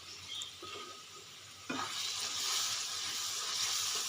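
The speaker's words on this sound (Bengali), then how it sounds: "মশলাটা ভালো করে কষিয়ে নেব।" Chilli powder and spices frying in hot oil for a Bengali mutton curry: a soft, low hiss that swells suddenly halfway through into a steady, brighter sizzle, close and alone.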